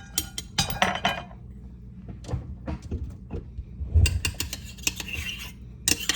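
A metal spoon scraping and clinking inside a cooking pot to get out the last bits, a series of short, irregular scrapes and taps, fairly close, with no talking.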